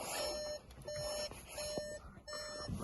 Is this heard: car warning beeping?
yes